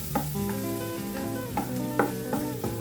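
An omelette mixture is stirred in a sizzling pan, steady frying hiss under repeated spatula strokes and scrapes against the pan at a loose rhythm, close and clear, with no talking.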